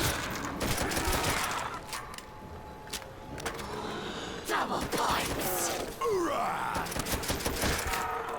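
Rapid continuous gunfire in Call of Duty Zombies on the Der Riese map, dense bursts of shots layered with game effects and groans throughout, loud and steady.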